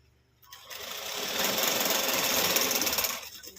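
A sewing machine runs a short burst of stitching on velvet blouse fabric, a close, even whirring chatter that starts abruptly, holds for about three seconds, then stops.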